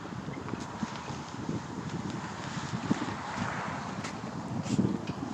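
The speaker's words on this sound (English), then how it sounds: "Wind almost knocked me down." Strong wind buffets and rumbles against the microphone without letup, with occasional louder gusts.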